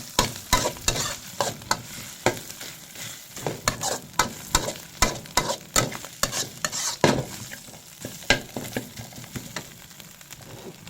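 Beef with pickled bamboo shoots being cooked, starting with homemade curry paste of lemongrass and kaffir lime leaves stir-fried in a pan: repeated scraping spatula strokes in a steady rhythm over a soft sizzle, close and fairly loud.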